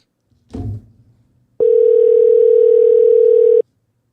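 A short knock, then a steady electronic telephone tone holds for about two seconds before cutting off cleanly.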